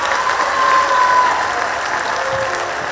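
A festival panel audience applauds after a speaker finishes, loud, dense clapping held steady throughout with a faint tone in the background.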